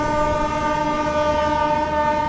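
The Goa Sampark Kranti Express (12450) runs through Bhuteshwar without stopping, carrying a loud, sustained tonal drone with rumbling rail noise beneath it, close and continuous throughout.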